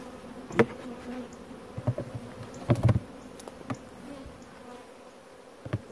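Honey bees buzz around an open hive at an apiary, a faint steady drone with a few louder passes close by and light clicks of hive equipment.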